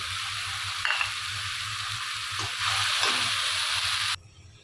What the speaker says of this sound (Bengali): এখানে আমি দিয়ে দিচ্ছি কাঁচামরিচ আর টমেটো